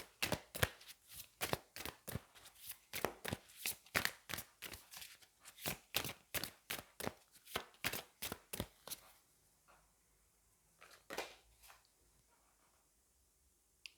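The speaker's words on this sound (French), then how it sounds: "on va prendre une carte du Magic of You." Tarot cards are shuffled and riffled in a fast run of crisp, close slaps for about nine seconds, then a few slower flicks as cards are drawn and laid down.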